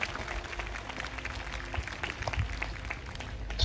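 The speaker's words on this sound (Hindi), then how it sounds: "आइए हम प्रभु के लिए एक अच्छी ताली बजाएंगे।" A congregation at a Christian worship gathering claps for the Lord, a dense, steady wash of many hands at moderate distance, sustained for several seconds with no voices over it.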